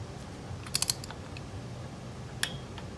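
A torque wrench on an Acura ZDX spark plug job gives a few sharp clicks as it reaches set torque, a quick cluster near the start and one more click later, over a quiet background.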